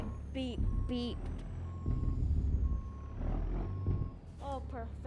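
Truck reversing beeps sound steadily while a tractor-trailer backs up, evenly spaced tones over idling engine rumble, with someone talking nearby.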